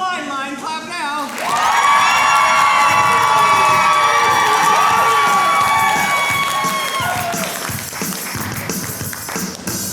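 Improv comedy audience at a ComedySportz showcase breaking into loud, sustained cheering, whooping and clapping for the red team, a dense crowd roar that swells after a brief lull and holds steady before tapering slightly.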